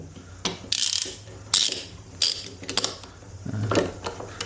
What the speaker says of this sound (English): turn my board, okay, like so, put it back in the, clamp it back down